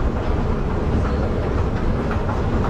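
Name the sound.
train at KL Sentral station, Kuala Lumpur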